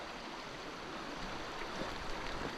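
A shallow creek at Whites Creek in the Oregon Cascades, with early fall colors, flows as a steady broadband rush of water close by, unbroken and fairly loud, with no talking.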